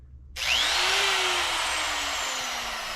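A die grinder fitted with a cutting wheel spins up abruptly from near silence into a high, whining screech. The steady shriek then sustains at close range, its pitch sagging slightly over three seconds.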